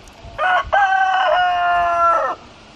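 A single rooster on a small livestock farm lets out one loud, close crow lasting about two seconds, alone over quiet outdoor background.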